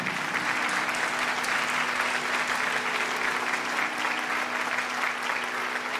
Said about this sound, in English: So I would request all of you to give a round of applause to Auntie, Uncle, and Sanjana for their contribution